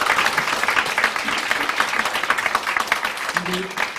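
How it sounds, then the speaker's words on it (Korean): An audience applauds at a 2023 Gyeonggi food policy forum: a steady, dense wash of clapping fills the whole stretch at close range, with a voice faintly audible underneath. "다시 한번 박수 좀 부탁드리겠습니다"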